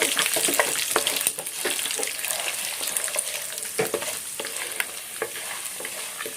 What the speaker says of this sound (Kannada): ಇವಾಗ ಸ್ವಲ್ಪ ಕರ್ಬೇವಿನ ಸೊಪ್ಪು ಹಾಕ್ತಾ ಇದ್ದೀನಿ ಇದನ್ನ ಇವಾಗ ಫ್ರೈ ಮಾಡ್ಕೋಬೇಕು